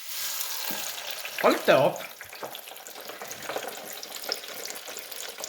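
French fries dropped into hot oil hiss into a steady, bright sizzle with a brief louder bubbling surge as they go in, while a voice speaks briefly nearby.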